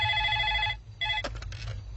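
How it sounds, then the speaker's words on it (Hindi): A telephone rings with a bright electronic trill, two bursts with a short gap, followed by a brief clatter as the handset is picked up. "बनी, तेरा फोन है।"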